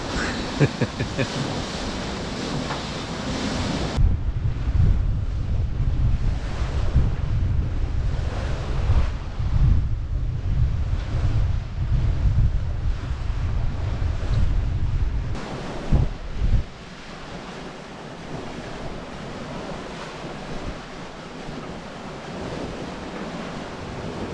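Sea waves wash and churn around a sailing boat with heavy wind buffeting the microphone, loud and rough at first, then calmer and quieter toward the end.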